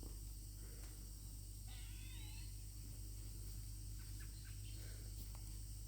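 Birds chirp faintly in the distance outdoors in the morning, with scattered short calls over a steady low background hum and insect-like hiss.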